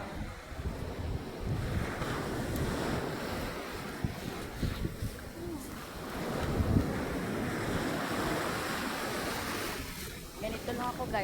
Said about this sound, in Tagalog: Papahabol ako sa alon.